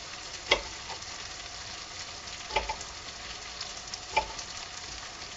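Vegetables and asparagus sizzle in butter in a pan for a veggie stir-fry with white eggplant, a steady crackle broken by three louder stirring scrapes spaced about two seconds apart.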